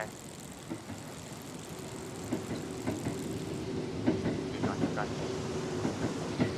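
A train rumbles past in the horror video game Burger & Frights, with a steady clickety-clack of wheels on rails, rhythmic clacks building as it nears, and a few faint spoken words over it.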